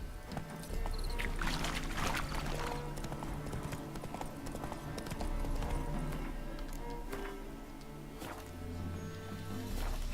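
Rhythmic horse hooves clopping steadily in The Witcher 3 over a continuous background bed, with occasional rustling and a faint low hum underneath.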